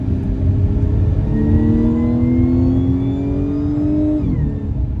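Audi S5 V6T coupé engine revving with its exhaust valve closed, a smooth rising mechanical whine that climbs steadily over several seconds then drops off sharply near the end, steady and close.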